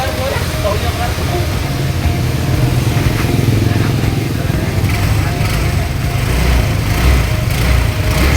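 A Honda Click 125 v2 scooter with an overheating problem runs at a steady, loud, close idle throughout, with someone talking over the engine.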